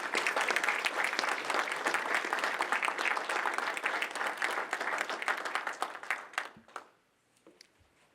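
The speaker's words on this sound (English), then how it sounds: "Please join me in thanking them with a round of applause." Audience applause fills a high school National Honor Society induction ceremony, a dense sustained wash of clapping that thins out and stops, leaving a near-quiet room with a few scattered claps.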